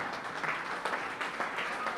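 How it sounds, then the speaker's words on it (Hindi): Faint, continuous clapping from an audience in a hall during a Hindi comic poetry recital, a soft wash of hand claps with slight surges. "आपकी तालियां बता रही हैं"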